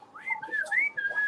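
A person whistles a short, clear tune of a few sliding notes, close and alone with no talk over it.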